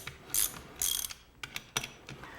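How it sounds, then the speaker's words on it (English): A socket wrench ratchet clicks in short bursts while tightening a bearing nut on a Lotus, several quick ratcheting runs spaced by brief pauses, close up and alone. "We'll just put the socket on it and tighten it down a little bit."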